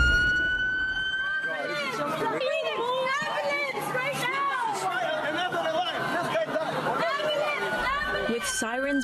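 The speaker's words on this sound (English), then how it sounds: "With sirens blaring, an ambulance rushes through this crowded strip" An ambulance siren wails in rising and falling sweeps as the vehicle rushes through a crowded street strip in Toronto, loud and close, with crowd chatter underneath.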